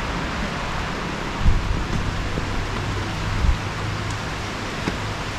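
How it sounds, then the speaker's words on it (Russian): Steady hiss of heavy rain falling all around on the road from Phuket to Krabi, Thailand, a constant wash of noise with a few faint low thumps, no voices. "А везде дождик идет вокруг"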